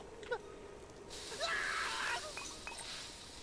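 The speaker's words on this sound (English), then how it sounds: "The scream." Screaming in the Jumanji video game: a strained, wheezing cry swelling up over game noise and chirps, moderately loud and lasting a couple of seconds.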